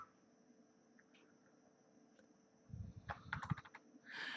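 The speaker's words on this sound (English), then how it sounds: "If we type anything here" Typing on a computer keyboard while editing a header in MS Word, a short burst of soft clicking keystrokes that starts after a near-silent stretch, faint and close.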